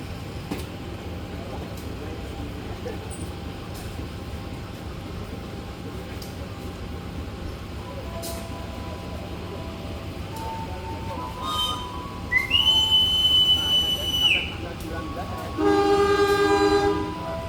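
KA Lokal Merak local train on the Jakarta–Cilegon line, with steady station rumble and murmuring voices, then two loud horn blasts near the end, the second following a short pause.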